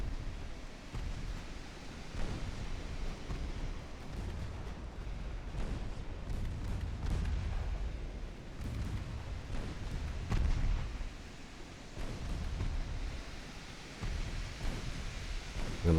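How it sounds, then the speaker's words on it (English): Torpedo hits exploding against a warship's hull in the naval strategy game Ultimate Admiral Dreadnoughts, a continuous dense rumble of booms and low crashing blasts with surging sea-like noise, no speech. "I'm gonna take torpedo hits here as well."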